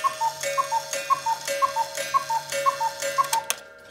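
Inside a countwheel cuckoo clock, the mechanism ticks in a steady, even rhythm of paired clicks for several seconds, crisp and close, then stops abruptly; no one speaks.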